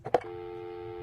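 A telephone number is dialed in a video game: a couple of quick keypad tones, then a steady tone that holds on, fairly quiet and heard alone.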